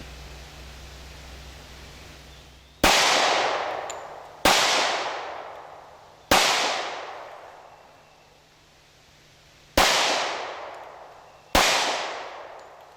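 A Smith & Wesson M&P Shield pistol in .45 ACP fires five sharp, loud shots outdoors at uneven intervals, each followed by a decaying echo, with no talking.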